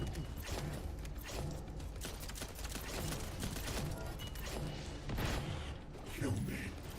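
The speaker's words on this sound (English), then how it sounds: "Assault turret activated." An assault turret fires in The First Descendant video game, a steady mechanical clatter of rapid shots that runs the whole time, with game voices and effects mixed in at a fairly low level.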